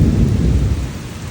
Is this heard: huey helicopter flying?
no